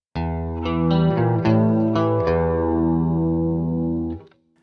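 A distorted electric guitar rings out a short melodic phrase with chorus-like shimmer, an octave guitar doubling the intro part of a song, notes sustaining and overlapping before fading at the end.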